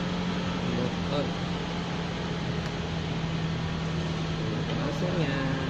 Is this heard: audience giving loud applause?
no